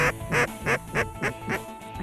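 Ducks quacking close by during a late-season waterfowl hunt in Alberta, a run of about seven loud, evenly spaced nasal quacks in steady rhythm.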